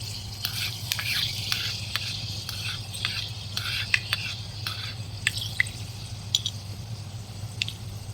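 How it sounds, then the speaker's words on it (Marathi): Fenugreek seeds hit hot oil for a small raw-mango pickle, giving sparse sharp pops and crackles over a steady low hum, close and fairly quiet, with no talking. "तेल गरम झाला का त्याच्यात मेथी टाकूया"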